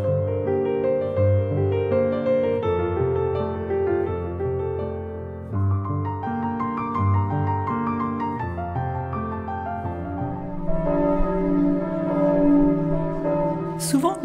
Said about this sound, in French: Souvent, les cloches résonnent, symbolisant l'appel que Dieu adresse aux baptisés.